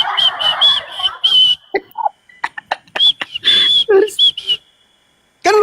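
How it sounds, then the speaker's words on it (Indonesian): Shrill, tuneful whistling in several short phrases, broken by brief gaps, with a few higher squeaky notes and quiet stretches between. "bayi ini kemudian bersiul?"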